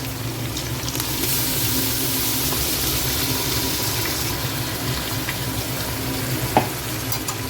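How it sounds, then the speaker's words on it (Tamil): Ginger garlic paste sautéing in hot oil in a pan for vegetable biryani rice, a dense continuous sizzle with faint scraping stir sounds and one brief clink, close and steady without talk. "இஞ்சி பூண்டு போட்டு பேஸ்ட் போட்டு கொஞ்சம் நல்லா வதக்கலாங்க"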